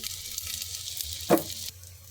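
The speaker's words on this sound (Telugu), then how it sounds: "ఆనియన్స్ కాస్త బాగా గోల్డెన్ కలర్ వచ్చేంత వరకు ఫ్రై చేసుకుందాం." Onions frying in oil with a little turmeric in a pot for methi pulao, a steady soft sizzle throughout with one brief louder spatter or clatter midway; no talking.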